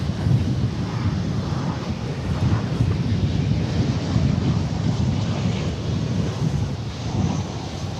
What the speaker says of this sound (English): We are dealing with wind.